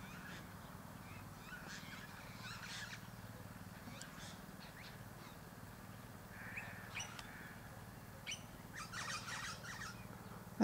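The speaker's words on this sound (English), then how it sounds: "Listen to the parrots in the distance." Parrots calling in the distance over a lush green landscape on a late winter afternoon, with scattered faint squawks and chirps rising above steady low ambient rumble, growing a little busier toward the end.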